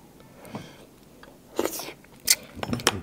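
Someone tasting canned fish, producing a few close, soft bites and crunchy chewing sounds with clicks, sparse and irregular, with no talk.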